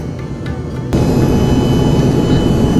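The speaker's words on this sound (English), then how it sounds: "airborne out of Bangalore on board the Star Air Embraer 145 pocket rocket" Cabin of a Star Air Embraer 145 regional jet in flight out of Bangalore, a loud steady engine and air roar that fills the space evenly, with a slight step up in level early on.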